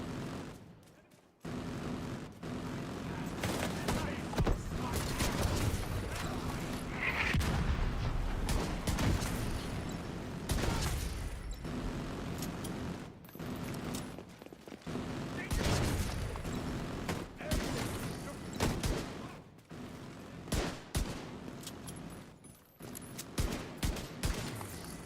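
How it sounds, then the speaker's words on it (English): Autocannon and mortar fire in The Division 2 thunder as a dense, sustained fusillade of gunshots and blasts, loud and continuous with brief lulls, while a voice talks over the combat. "The autocannon seems to be firing blind."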